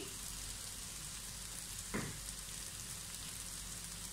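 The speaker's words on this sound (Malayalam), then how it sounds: "ഇതും കൂടെ ഒന്ന് നന്നായിട്ട് ചേർത്ത് വഴറ്റി കൊടുക്കാം" Onions sauté with chili powder, garam masala and pepper in a pan for butter chicken, a steady close sizzle and hiss throughout with one brief scrape of stirring midway.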